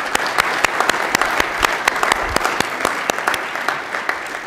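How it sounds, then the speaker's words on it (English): A crowd at a graduate recognition ceremony claps for the graduates, several sharp close hand claps standing out over an even bed of applause. "let's do one last round of applause for everybody"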